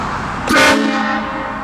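A loud train horn mounted on a vehicle blasts once as a prank, a sudden brassy multi-tone chord that sounds close and strong for about a second before cutting off.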